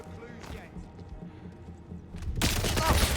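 Gunfire in the video game 007 First Light erupts as a loud, dense burst of shots in the final second, after a stretch of quieter game background sound.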